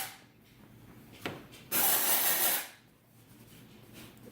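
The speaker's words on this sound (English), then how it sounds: "So you want to hold it a good distance away. Just spray it on there." Dry shampoo aerosol sprayed onto hair, one short puff then a steady hissing blast lasting about a second, close and fairly loud over quiet room noise.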